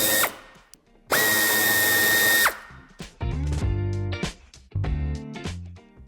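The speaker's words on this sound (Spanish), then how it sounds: "podremos quitar el tornillo que tenemos en esta parte" A power drill backs out screws from the wheel arch of a 2022 BMW X1 (U11), with one sustained high whirring burst followed by several shorter, choppier bursts of the tool, close and loud, with no talking.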